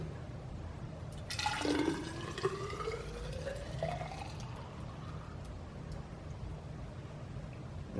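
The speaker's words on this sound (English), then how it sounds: "I'm going to pour the juice into here" Fruit juice for homemade winemaking is poured into a Pyrex measuring cup, a brief rising liquid pour and fill followed by quiet trickling and bubbling, heard alone at moderate level.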